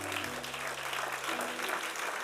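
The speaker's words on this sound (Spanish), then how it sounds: "Dale un aplauso, Señor." Church congregation applause during a sermon, a fairly faint, even wash of clapping with a low hum underneath.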